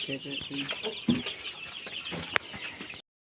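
Brahma and Asil chickens clucking nearby, with a few short clucks and calls over a steady background hiss and one sharp click, and faint human voices mixed in.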